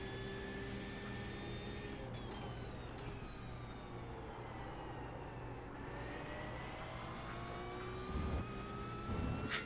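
Race car engines whine in iRacing at Watkins Glen, a Mustang and a McLaren among them, with several rising and falling tones layered at moderate, fairly faint level and a louder rumble near the end, no talk.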